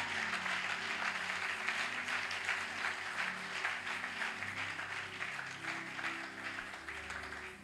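A church congregation's applause, a continuous wash of clapping at a moderate distance that holds steady throughout, with faint music or voices underneath.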